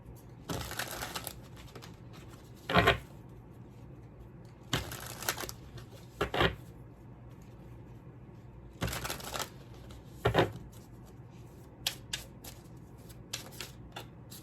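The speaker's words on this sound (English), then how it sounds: "let's pull some Divine Feminine Oracle cards" Divine Feminine oracle cards shuffled in several quick bursts of papery riffling and taps, separated by quiet pauses, close and alone.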